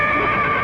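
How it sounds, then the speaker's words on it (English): A horse whinnies in a brief, loud, high neigh, heard close and alone. "I thought I heard a horse"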